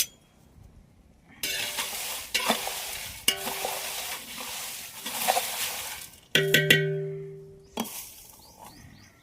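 Spices, coriander seeds among them, dry-roasting in a pan, heard as bursts of gritty scraping and rustling as they are stirred, separated by short pauses and a sharp metallic clink or two from the utensil.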